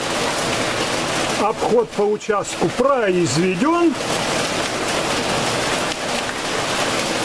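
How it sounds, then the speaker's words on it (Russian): Steady rain falls across a vineyard, a dense even hiss that runs the whole length, while someone speaks briefly over it partway through. "А вот и дождик пошел."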